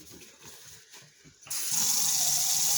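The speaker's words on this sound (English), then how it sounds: "I think when we bought the house it was dripping like this a little bit" Water runs from a household sink faucet that has a dripping fault. A quieter stretch of trickling jumps to a steady, loud gushing stream partway through.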